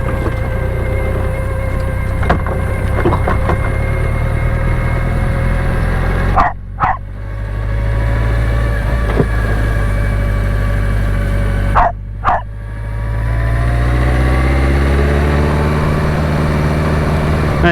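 The engine of a 1991 BMW K100LT motorcycle with sidecar runs at a steady idle, a loud, close, low droning hum that dips briefly twice, alone without talk.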